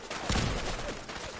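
A loud explosion in the Fallout 4 video game, a broad blast that swells quickly and rumbles on through the short moment, like distant gunfire or artillery in a dense game soundscape.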